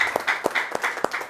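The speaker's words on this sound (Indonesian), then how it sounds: "Berikan sorak-sorai buat Tuhan." A church congregation claps in praise of God, several sharp distinct claps in a loose rhythm over a lively background of cheering voices, close and fairly loud.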